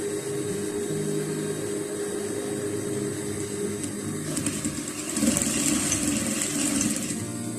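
A sewing machine stitching along a line for a ruffle balloon sleeve, a close, steady motor whir that grows louder and busier for the last couple of seconds, with no talk.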